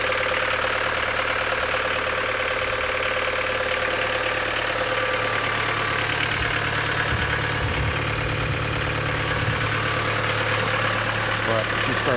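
A Chevrolet Colorado 2.8 Duramax diesel idles after a cold start at 2°F, a steady low rumble with a faint knocking clatter that holds at a constant level throughout, close to the truck.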